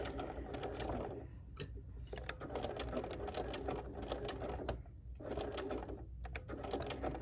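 A sewing machine stitches quilt binding in several quick runs of rapid, rattling mechanical whirring, separated by short pauses, close and fairly quiet.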